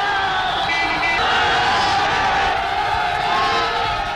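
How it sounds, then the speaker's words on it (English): Rapturous crowds welcoming Charlie Chaplin in Berlin in 1931, a dense, steady roar of cheering and shouting voices with whoops rising out of the mass, heard as a continuous wall of sound. "On his visit to Berlin in 1931, he was met by rapturous crowds."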